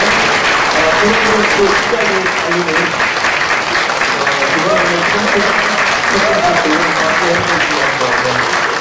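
A crowd at a political talk concert claps loudly and continuously to mark the start of the event, the applause running throughout while voices talk beneath it.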